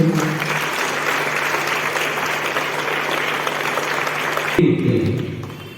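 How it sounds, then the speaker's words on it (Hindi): Children and staff at a school morning prayer assembly give loud, dense applause for class 4 students, a sustained roar of clapping that cuts off sharply near the end, leaving a faint room murmur. "तो कक्षा 4 के बच्चों के लिए एक जोरदार ताली है"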